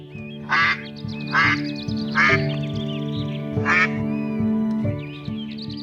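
Several loud duck quacks in short bursts, close by, spaced about a second apart over a steady low musical drone.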